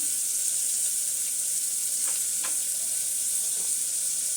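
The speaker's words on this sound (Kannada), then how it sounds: "ಇವು ಫುಲ್ಲು ಬ್ರೌನ್ ಕಲರ್ ಆಗೋವರೆಗೂ ನಾನು ಫ್ರೈ ಮಾಡ್ಕೋಬೇಕು" Two medium onions sliced and frying in a pan with salt for biryani, a steady loud sizzle filling the whole stretch, with a few faint stirring scrapes and no talking.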